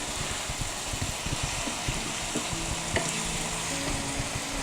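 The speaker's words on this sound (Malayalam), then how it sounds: "ഇഞ്ചിയുടെയും വെളുത്തുള്ളിയുടെയും ആ പച്ചമുളകിൻ്റെയൊക്കെ നല്ലോണം പച്ചമണം മാറി കിട്ടുന്നവരെ നമുക്കൊന്ന് വഴറ്റിയെടുക്കാം" Ginger, garlic and green chilli sauté in hot oil in a pan, a steady close crackling sizzle with light stirring scrapes throughout and no talk.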